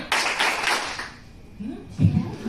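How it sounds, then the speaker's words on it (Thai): An audience at a lively Thai seminar on online marketing claps a set number of times in a quick, dense burst that stops abruptly. A voice then speaks over the quieter room. "ปรบมือห้าครั้ง ปบมือสี่ครั้ง"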